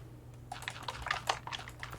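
Rapid clicking of a computer mouse, a steady run of quick, soft, dry taps repeating for about a second and a half, close and fairly quiet, used to collect clay by clicking away at dirt in the game Terrarium.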